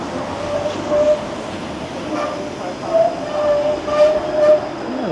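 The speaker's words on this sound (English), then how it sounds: "And a 506 Carlton streetcar." Toronto 506 Carlton streetcar passing on a city street, a steady rumble of rail wheels with faint metallic squeals and rising swells of noise, heard up close amid street ambience.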